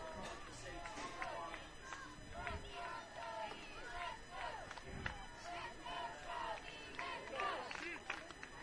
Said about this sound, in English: As you hear the crowd cheering these young men along